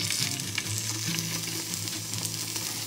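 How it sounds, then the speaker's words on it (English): Duck skin sizzles and crackles loudly skin side down in a hot skillet, a constant frying hiss with a faint hum underneath. "There's the sizzle."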